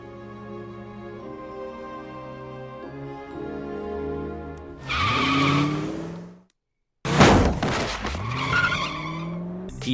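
Cartoon car skids into a man, a loud tire screech sweeping in over a musical background, a sudden cut to silence, then a second sharp squeal and crash-like burst.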